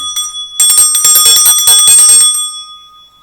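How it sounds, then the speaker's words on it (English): A small bright hand bell rings rapidly over and over, close and loud, in a quick jingling burst during a tarot reading, then stops and leaves a brief fading tone. "I'm going to clear the energy with my bell."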